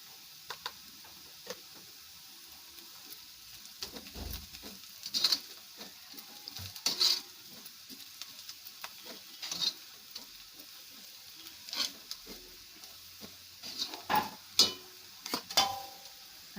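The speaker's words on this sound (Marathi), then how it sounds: "कांदे लाल होईपर्यंत आम्ही त्याला भाजून घेऊया।" Onions fry in oil with turmeric, giving a soft, steady sizzle. Intermittent louder clinks and scrapes from stirring break through at irregular intervals, fairly close and quiet overall.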